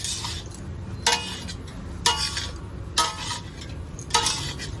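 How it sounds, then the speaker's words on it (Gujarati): Mag pulao, a mung bean rice dish, stirred in a metal pot by a Navapura street food stall, four evenly spaced scraping clinks of a ladle against the pot with soft sizzling between. "ધીમે ધીમે એને હલાવી લેશું પ્રોપર તરીકે"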